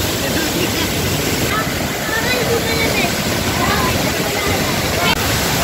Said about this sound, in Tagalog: Welcome to Taytay Falls.